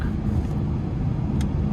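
A BMW 540i xDrive's engine gives a steady, loud low rumble from inside the cabin under hard acceleration, with no talking.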